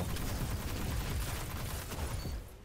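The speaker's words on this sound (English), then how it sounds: "Oh, I just forgot we had a shotgun." Gunfire in a Destiny Crucible multiplayer match, heard as a dense, loud burst of rapid shots and booming game effects that fill the whole short stretch before tailing off slightly at the end.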